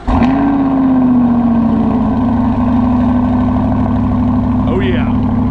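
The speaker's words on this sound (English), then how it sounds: "since the C8's been sitting for a little while, we're going to do a cold start before we do anything" A C8 Corvette with an AWE exhaust is cold-started in the morning, settling into a loud, steady high idle with a strong engine drone close by, and a brief voice near the end.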